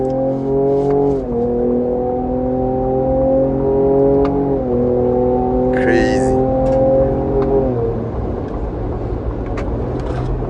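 Ford Ranger Raptor accelerating hard on a race track in Zimbabwe, heard from inside the cabin. A loud, steady engine drone climbs through the gears with brief dips at each shift. Voices talk over it.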